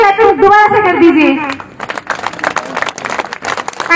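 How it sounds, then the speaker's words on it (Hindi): Audience clapping at a live stage programme, a burst of applause that follows a voice and continues dense and steady to the end. "तो एक क्लैपिंग दोबारा से कर दीजिए"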